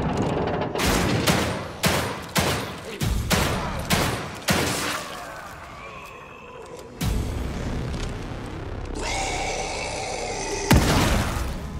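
Gunfire in The Evil Within 2, loud individual shots in a rapid series with a few heavier booms, then quieter stretches with game sounds and another burst at the end.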